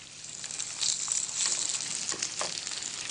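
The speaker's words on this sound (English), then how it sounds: "And now we can start to fry." Wild salmon fillet, seasoned with salt and pepper, sizzles and crackles steadily in a hot pan, a dense continuous fry with occasional sharper spits, close and fairly loud throughout.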